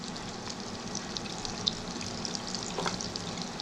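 Garlic sizzling as it goes into hot butter in a pan for butter chicken, a steady close crackle and hiss with a few small pops, and no talk.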